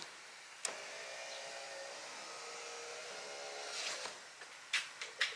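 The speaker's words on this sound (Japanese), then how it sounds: "購入して初めて運転席側のスイッチで助手席のウィンドウを上げ下げすることができました" The passenger-side power window of a cheap used Suzuki Jimny, run from a newly replaced driver-side switch, whirs steadily up and down in one long motor drone, ending with a thump and several short clunks as it stops and restarts.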